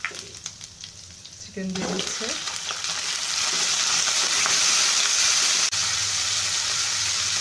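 Chicken dropped into hot oil in a pan starts a loud, dense sizzle that builds and holds steady, after a brief clatter as it goes in; a voice speaks briefly at the start.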